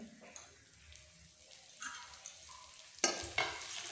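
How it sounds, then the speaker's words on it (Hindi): Kneaded wheat dough made with milk fries in a little ghee in a kadai, giving a faint, soft sizzle with light stirring scrapes that swell briefly louder near the end. "इसे हमें गोल्डन ब्राउन भून लेना है।"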